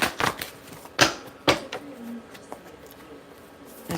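Tarot cards are shuffled with a few sharp, close riffling bursts spaced apart, followed by quieter handling and faint shuffling sounds.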